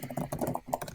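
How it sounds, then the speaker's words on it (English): Fingers patter quickly and steadily on a computer keyboard, a soft, close run of light key clicks with no talking. "Oh no, I'm typing in Discord."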